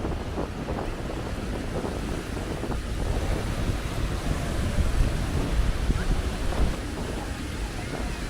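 Small waves break along My Khe Beach in Da Nang, Vietnam, a continuous near wash of surf mixed with heavy wind rumble on the microphone.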